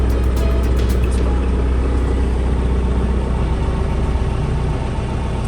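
A John Deere 6310 tractor engine idling steadily and loudly close by, a constant low rumble with no change in pace and no voices.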